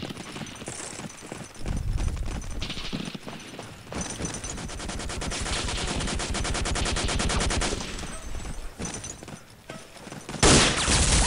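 An MG42 machine gun fires in the World War II shooter Day of Defeat in long, rapid bursts of dense, loud automatic fire, with short gaps and other game gunfire around it.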